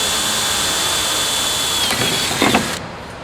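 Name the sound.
drilling through aluminum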